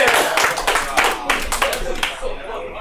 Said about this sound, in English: Gives a round of applause for James McKinley!